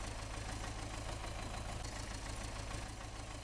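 A tractor engine idles steadily in Farming Simulator 17, a low, even rumble that stays faint and unchanging throughout.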